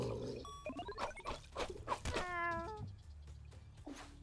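Cat meowing in the video game Echo Generation, a string of close, clear meows and drawn-out yowls with pitch glides, several distinct calls over a quiet game backdrop.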